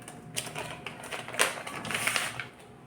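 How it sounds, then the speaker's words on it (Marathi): A knife cuts through a pizza base with a series of faint, crisp scraping and crunching strokes, irregular and close, with no talking over them. "आता इथे सर्वात आधी ना मी हा पिझ्झा बेस जो आहे ना तर तो कापून घेते"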